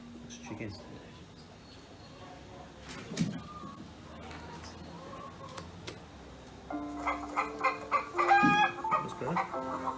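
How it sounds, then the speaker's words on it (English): A children's toy busy box sounds out an electronic chicken cluck and crow from its animal-sounds button, starting quiet and then growing louder and busier toward the end, with a voice speaking over it. "That's chicken."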